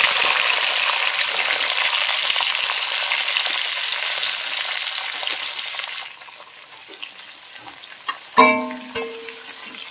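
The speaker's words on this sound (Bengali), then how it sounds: "দেখুন এবার আমি সব কটা সবজি একসাথে দিয়ে ভালো করে ভেজে দিই।" Vegetables fry with whole cumin in hot oil, giving a loud steady sizzle that fades partway through, followed by a few sharp clinks from a utensil.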